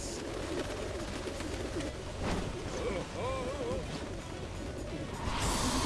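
Pigeon-like cooing from a bird attack in the Yakuza: Infinite Wealth video game, brief warbling calls midway through a dense, noisy game soundscape of crashes and rumble.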